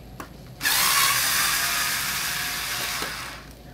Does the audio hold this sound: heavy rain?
no